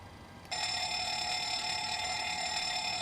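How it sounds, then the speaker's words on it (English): A PMDG 737 APU fire warning test in Microsoft Flight Simulator triggers after a short quiet lead-in: a loud, steady electronic alarm bell ringing continuously to the end. "APU engine fire warning tests, we'll do those."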